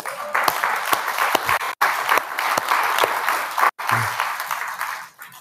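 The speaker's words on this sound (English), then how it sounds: "Let's give the team applause there." Loud, sustained applause from a large audience cheering a team, dense and steady clapping that carries on with two brief dropouts and no voices on top.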